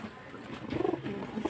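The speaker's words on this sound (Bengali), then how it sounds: "একজোড়া ফুলশিরা পায়রা দেখুন" A pair of Fulshira pigeons coo close by, with a soft, low rolling call swelling through the middle and returning briefly near the end over light background hiss.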